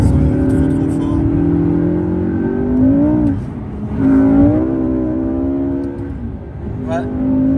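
A powerful, very light supercar engine revs loudly and close, rising and falling in several pulls with a sustained growl, while people talk over it.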